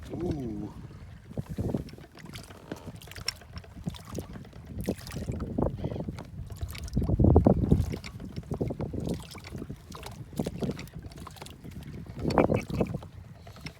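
A small electric boat rocking on choppy water on Lough Neagh, with irregular splashes and slaps against the hull under gusty wind buffeting the microphone.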